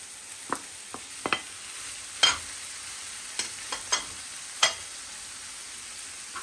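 Chicken fries in a pan for risotto, a soft steady sizzle broken by several sharp clinks and scrapes of stirring spread irregularly through the clip.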